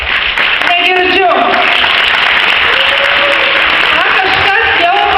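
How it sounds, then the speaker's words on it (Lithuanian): A large audience at a community awards ceremony in Alytus bursts into dense, loud applause that fills the room continuously, with voices speaking over the clapping. "Aš tikrai noriu, kad jūs visi plojimais padrąsintumėt"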